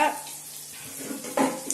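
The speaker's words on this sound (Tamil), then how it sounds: "நல்லா தண்ணி ஊற்றி நல்லா அலசிட்டு நல்லா புழிஞ்சி" Tap water runs over chopped chicken pieces as they are rinsed in a kitchen sink for Tamil chicken kulambu, a steady splashing with a couple of louder surges and no talking.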